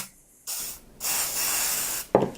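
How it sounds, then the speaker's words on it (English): A WD-40 aerosol can sprays into a container in two close, hissing bursts, the first short and the second about a second long, followed by a brief clatter. "I'm going to get a container and WD-40 and spray it in the container"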